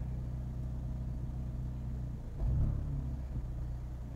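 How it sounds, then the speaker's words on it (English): A manual-transmission car idles with a steady low rumble, then the engine note deepens and swells briefly as the clutch is let out and engages, before settling back. "foot off the brake, slowly let the clutch out till you feel it engage, and push it back in"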